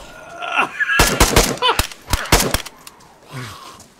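Gunfire in the survival video game DayZ, several loud sharp shots in a quick irregular cluster, with people exclaiming and groaning around them.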